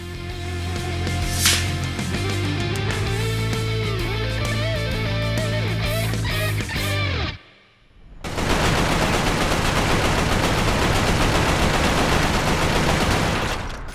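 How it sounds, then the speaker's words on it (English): Automatic fire from an M5A2 rifle in the shooter game Resistance: a steady, loud stream of rapid shots that starts after a brief lull, preceded by a tonal, ringing stretch. "An M5A2 standard issue rifle of the US Army Rangers"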